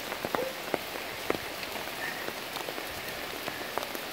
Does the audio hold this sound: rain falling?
yes